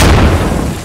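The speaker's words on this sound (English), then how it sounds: "Oh, it's a gas grenade." A gas grenade going off in the Post Scriptum battle game during the fight for the Arnhem bridge, a loud, brief burst that trails into a hissing, rumbling decay.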